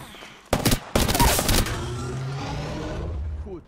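Bursts of automatic weapon fire in a shooter video game, loud and close, come in two rapid volleys followed by a fading rumble and lingering ambient game noise.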